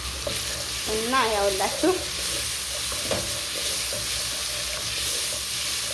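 Onion fries in a pan with a constant close sizzle, broken by a few stirring scrapes; a short voiced phrase sits over the frying near the start.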